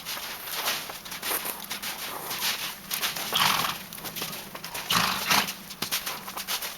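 A mare's hooves clip-clop steadily as she moves along, with a continuous run of close, crisp hoof strikes and no talking.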